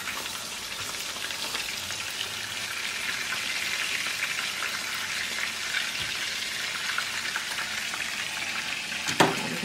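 Meat patties sizzling and frying in a pan, a steady close crackle and hiss that runs unbroken, with a brief clatter near the end.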